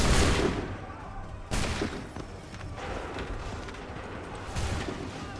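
Musket volleys from Assassin's Creed 3, the Tea Party and Midnight Ride fighting: several sharp crackling gunfire bursts a second or so apart, each fading into a rattling tail over a noisy battlefield backdrop.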